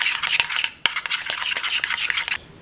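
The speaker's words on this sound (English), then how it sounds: "Just stir it up." A spoon scrapes and swirls through a thick mayonnaise-based burger sauce with thyme and rosemary in a bowl, giving a close, continuous scratchy stirring with quick clinks and a brief pause midway.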